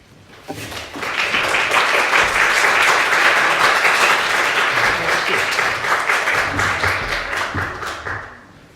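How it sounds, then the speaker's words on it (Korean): Loud, steady applause from a large church congregation, building quickly and holding for several seconds before tapering off. "같이 큰 박수로 환영을 하셨으면 좋겠습니다."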